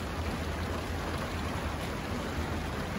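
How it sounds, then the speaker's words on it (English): Steady rain pours down through the whole stretch as a dense, even hiss with no lulls, heard alone and without voices. It comes from a wet morning at the Oshkosh 2021 fly-in. "So I'm just gonna sit here, watch the rain come down."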